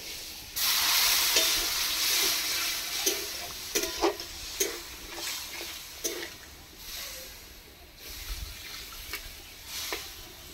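Potato curry with spices bubbles in a pan after water is added, a soft steady hiss and sizzle broken by scattered clinks and stirring scrapes, fairly quiet and close, with no talking.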